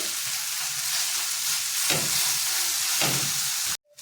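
Onion and tomato fry in a pan for egg bhurji with a loud, continuous close sizzle, broken by two brief stirring scrapes before cutting off abruptly.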